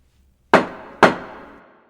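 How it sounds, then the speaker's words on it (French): A judge's gavel strikes twice in a courtroom, two sharp, loud wooden knocks about half a second apart, each ringing briefly before fading into silence. "Le juge frappe de son marteau pour ouvrir la séance."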